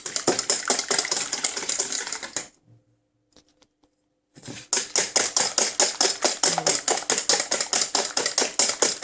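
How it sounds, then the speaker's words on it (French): Sugar and egg being beaten together for a nut tart, a fast regular rattling whir of a mixer or whisk, loud and close, stopping for about two seconds and then resuming at the same steady pace. "Et battre. Mélanger le sucre et l'œuf"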